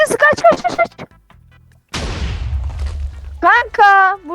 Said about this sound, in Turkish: Creeper mı patlattın kanka?